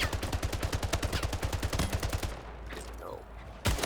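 Rapid automatic gunfire in a video game, a steady burst of evenly spaced loud shots for over two seconds, then quieter ambient sound and one more sharp report near the end.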